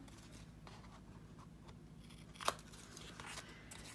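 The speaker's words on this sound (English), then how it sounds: "I'm gonna take it and go up to that score line and just kind of cut it at an angle" Scissors snip paper corners at an angle, quiet and close, with a few faint cuts and one sharper snip standing out over a low background hiss.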